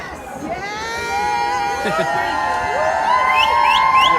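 A large crowd of anti-Trump protesters near Trafalgar Square in London cheers and whoops, with rising shouts and high whistles layering into a loud, sustained roar.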